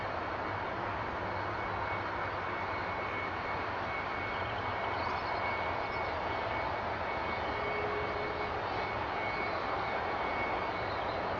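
Steady, distant jet engine drone of a Thomson Boeing 757 whose left engine is still running after a bird strike, a faint continuous roar with a whining tone and no breaks.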